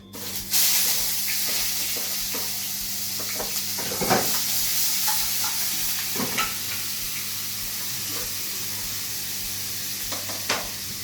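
A steady, close sizzle of onions frying in hot oil, with scattered small pops and clicks and no talking.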